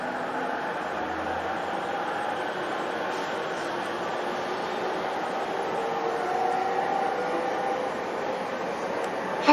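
A 15-car Joban Line electric commuter train with long bench seats runs steadily at speed, a continuous rumbling roar with humming tones, heard from inside the carriage for the whole stretch.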